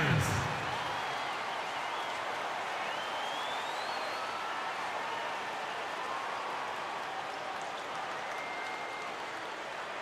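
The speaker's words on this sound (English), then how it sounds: "A round of applause, please." Steady crowd applause and cheering fill an arena in the basketball video game NBA 2K13 during a Lakers vs Miami Heat game, a continuous, even roar of clapping sustained for the whole stretch with no clear breaks.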